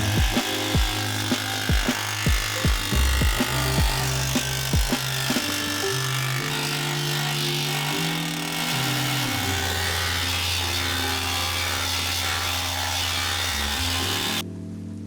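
A power tool whirs loudly and steadily over metal welds on Porsche 911 rocker panels, its pitch shifting as it works, with a few sharp scraping strokes at the start.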